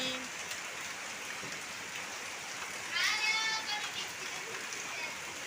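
Heavy rain falls as a steady, faint hiss throughout, with a brief burst of a higher chirping sound near the middle.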